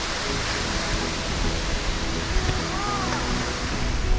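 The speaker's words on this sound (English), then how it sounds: "Yeah, it's definitely a big waterfall there." A big waterfall roars below a cliff overlook on a wilderness trail, heard as a steady, loud broadband rush that never lets up, with faint traces of a voice under it.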